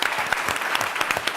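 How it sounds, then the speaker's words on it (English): Brief burst of applause at a demo day event honoring ten teams, a dense, close wash of many hands clapping. "Let's have another big round of applause for all of our 10 teams."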